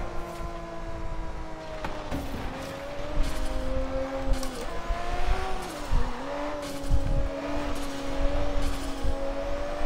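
Lamborghini racing in Forza Horizon 3, a steady engine drone that rises and dips through gear changes, with brief tire squeals, loud and close, no talk.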